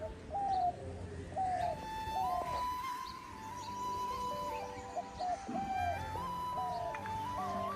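A dove or similar bird coos in repeated tuneful calls close by outdoors, the phrases rising and falling over a faint background with no talking.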